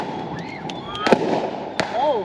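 Backyard New Year's fireworks going off after the fuse is lit, sharp pops and crackles with a couple of bright bursts over outdoor background noise and nearby talking.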